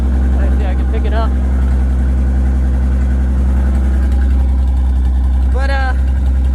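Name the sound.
old Nash car engine running, exhaust without pipe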